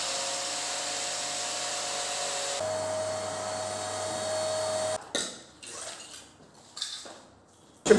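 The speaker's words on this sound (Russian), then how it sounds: "Пылесос был забит, оказывается." A clogged vacuum cleaner used on a building site drones steadily and loudly for about five seconds with a harmonic hum, then cuts out, leaving clattering handling noises and brief knocks.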